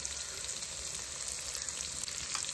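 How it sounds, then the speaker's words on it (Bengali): Prawns fry in oil in a pan for a Bengali chingri pyazkali jhal, making a constant close sizzle with a faint bubbling crackle and no voices. "এটাকে এবার আমি ভেজে নেবো ভালো করে"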